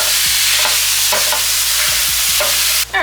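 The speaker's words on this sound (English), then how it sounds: "we're gonna add in our ground beef because we don't want that garlic to burn" Ground beef and garlic fry in a pan for million dollar spaghetti: a steady close sizzle with a spoon scraping and stirring every half second or so, no voices.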